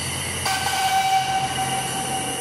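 A train rolls past with a sustained horn blast sounding through the middle, steady and fairly loud over the rumble of the cars, with no voices.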